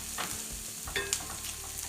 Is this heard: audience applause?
no